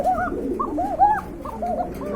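Domestic pigeons at a Bangladeshi pigeon seller's coop coo in soft, repeated throaty phrases, several overlapping calls rising and falling close by with no talking.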